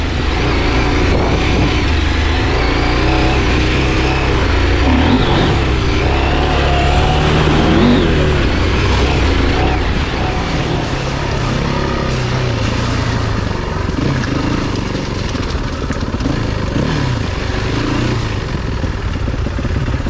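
A KTM 790 Adventure R motorcycle rides a trail, its loud, close engine rumbling and revving continuously as the throttle rises and falls, with no talk.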